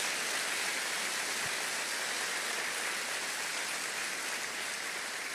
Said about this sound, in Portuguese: Aplauda a Deus por isso na sua vida